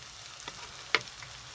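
Sizzling as water hits potatoes in a hot pan for Bengali new-potato dum, a continuous hiss with one sharp crackle standing out briefly in the middle.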